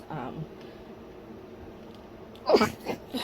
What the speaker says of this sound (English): I've been sneezing a lot.